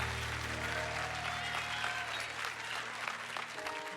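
A church congregation claps together in a steady, dense burst of applause over a low sustained musical tone, filling the room evenly for a few seconds.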